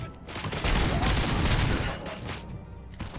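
A dense burst of gunfire in the RoboCop: Rogue City game, loud and rapid for a couple of seconds before easing off, with voices faintly mixed in.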